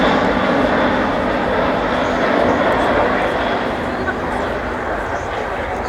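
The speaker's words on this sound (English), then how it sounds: "Slow speed pass there with gear down, and this aircraft can fly very slowly" Airbus A400M military transport aircraft making a slow, low pass with landing gear down at the Farnborough airshow, a steady, loud broadband turboprop roar that holds constant throughout, with a voice talking over it.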